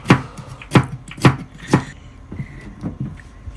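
A knife slices okra thinly against a cutting board, four crisp, evenly paced chops up front followed by softer, quicker cuts, close and clear with no talk.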